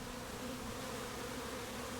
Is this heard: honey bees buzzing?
yes